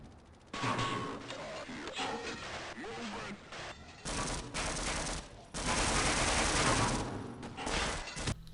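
Marines and aliens trading fire in Half-Life: rapid, dense bursts of automatic gunfire with crashes and impacts, loud and sustained over most of the stretch, swelling to near-continuous shooting toward the end.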